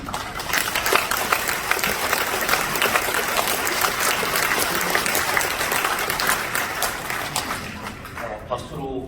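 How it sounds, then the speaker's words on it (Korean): A church congregation applauds to welcome a preacher at a national elders' retreat, a dense, steady wash of clapping that continues for several seconds before thinning out at the end. "박수로 환영해 주셔서 정말로 감사를 드립니다."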